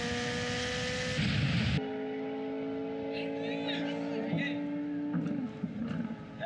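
A Corvette Z06 engine roars during a drag race, a loud sustained engine note with a burst of high roar early on, then a steadier drone with tonal background sound layered over it.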